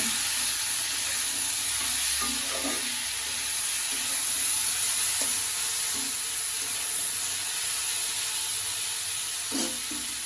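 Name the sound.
turmeric powder frying in a pan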